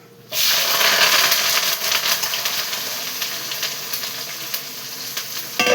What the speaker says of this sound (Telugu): ఇప్పుడు ఆనియన్స్ వేసేసుకుందాం.